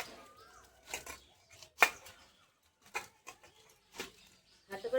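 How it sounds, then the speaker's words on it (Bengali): Ripe, overripe bananas being mashed by hand make soft, squelchy bursts at an uneven pace, close and fairly quiet, with short pauses between squeezes. "এবার আমি ভালো করে কলাটা চটকে নেব।"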